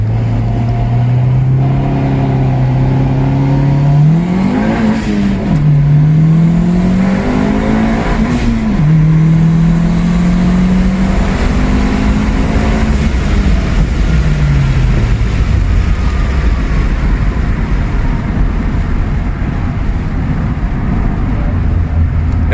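A straight-piped Chevrolet Impala SS accelerates hard through the gears, its raw exhaust rising in pitch, dropping at each shift and climbing again, loud and close throughout.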